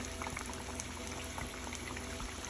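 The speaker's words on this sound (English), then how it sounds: "And strain the oil off." Hot frying oil poured and strained off freshly fried crispy ranch chicken wings, a steady bubbling, liquid rush with crackle running evenly throughout.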